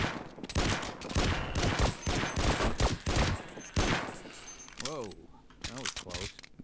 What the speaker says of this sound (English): Feels like the gun fires as fast as you can pull the trigger, which the original didn't